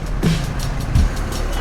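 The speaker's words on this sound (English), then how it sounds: "the sound that the engine makes when you open the throttle" BMW R 1250 GS motorcycle engine on a highway ride, a loud steady drone with a brief throttle rise, heard close under strong wind rush.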